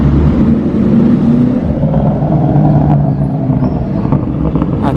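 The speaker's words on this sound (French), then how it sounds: "le bruit de la M2" A BMW M2 engine rumbling past on a Monaco street, a steady loud low drone with a slight rising note, no talk over it.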